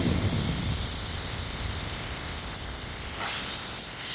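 Air hisses steadily out of a commercial truck tire during a plug repair, a loud continuous broadband rush that holds for the whole stretch with slight swells near the end.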